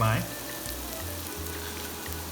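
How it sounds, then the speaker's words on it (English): Pumpkin sautéing with turmeric in a pot for butternut squash soup: a brief louder splash as pieces go in, then a steady close sizzle, with soft stirring scrapes. "all my pumpkin to it, and same thing, I'm going to saute this well"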